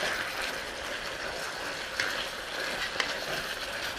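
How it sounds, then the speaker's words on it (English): Chicken and vegetables sizzle and fry in a pan on the stove, a steady broadband hiss held throughout with a couple of brief clicks, likely from stirring, and no talking. "my chicken is sizzling, so I'm gonna go ahead and add my veg."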